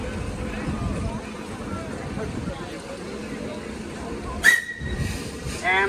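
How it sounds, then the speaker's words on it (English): Steam whistle on a 5/8 scale Case model steam engine at a farmers and threshermen's parade, one short shrill toot standing out over crowd hubbub, outdoor noise and a talking announcer. "You have a whistle."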